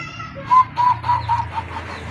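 A decoy bird used for hunting gives a short series of three or four close, soft cooing calls in quick succession.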